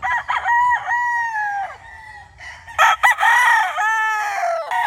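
A Sweater gamefowl rooster crows repeatedly, loud and close, with long drawn-out calls and a few clucks between them, with no talking.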